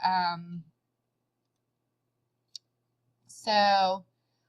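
A single sharp computer mouse click lands alone in a quiet gap between stretches of talking.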